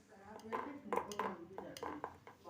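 Steel plates for dhokla clatter and clink as they are set in place, a series of near metallic knocks over quiet talk in the kitchen.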